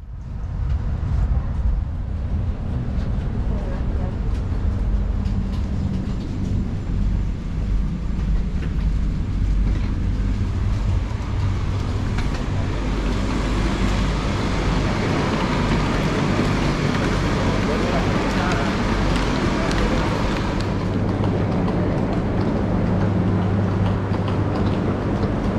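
A steady, loud rumble of a Renfe AVE S-102 high-speed train rolling along the tracks, with a gradual shift in tone as it slows pulling into Valencia Joaquín Sorolla station.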